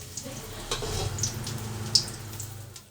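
An egg fries in a pan beside onions, a soft close sizzle with small crackles and a few light stirring taps.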